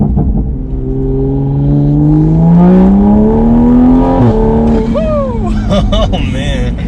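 A tuned A90 Toyota Supra accelerating hard in sport mode, its engine note climbing steadily in pitch through a long pull before a brief shift and renewed rise, loud and close from inside the car with people talking over it.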